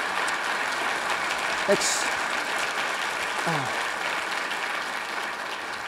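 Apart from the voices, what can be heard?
audience applause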